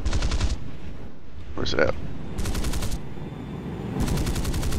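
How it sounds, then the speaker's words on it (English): Bursts of cannon fire from an F9F Panther jet in War Thunder: three rapid rattling volleys at the start, middle and end. Brief speech falls between them. "I'll show you guys this when I shoot off the cannons here"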